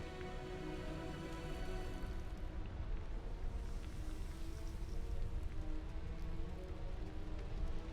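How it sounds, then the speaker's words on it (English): Steady rain in the video game Diablo 4 patters on a surface, heard from indoors, constant and moderately loud throughout with no voices. "I can hear like the rain from the outside as you're indoors"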